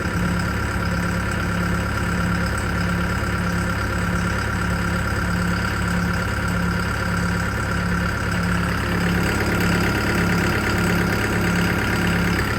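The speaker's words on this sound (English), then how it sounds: "Engine sounds normal." A car engine, freshly reinstalled, idles steadily with a low, even rumble and a regular pulsing throb, close by and unchanging apart from a slight shift in tone.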